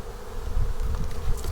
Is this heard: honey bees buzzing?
yes